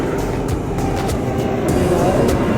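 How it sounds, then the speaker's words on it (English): An airplane passes overhead above the sea on the Canary Islands, a steady loud broadband roar mixed with the wash of sea waves throughout. "Sea waves, an airplane,"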